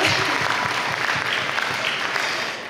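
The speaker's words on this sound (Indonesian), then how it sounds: "Tepuk tangan buat semua peserta yang ada di ruangan ini." A room full of participants at a fellowship night applauds in a ballroom, producing loud, dense clapping that holds steady and then starts to taper near the end.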